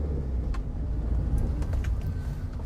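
A manual car's engine rumbles low and steady as it pulls away on a hill start, with faint small clicks over the drone and no talking.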